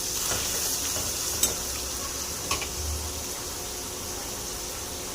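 Potatoes added to beetroot frying in a pan and stirred, a steady sizzle throughout with a couple of brief clinks from the spoon against the pan.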